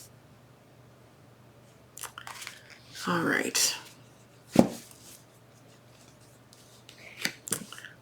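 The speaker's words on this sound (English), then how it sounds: "I gotta do an extra shuffle for you." A deck of tarot cards is shuffled close to the microphone in several crisp, papery bursts separated by quiet pauses, with a brief spoken remark at the start.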